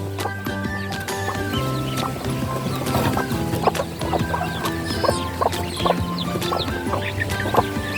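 Chickens cluck and squawk close by in a backyard flock with a new rooster, a busy overlapping chorus of short calls running continuously with light scratching sounds.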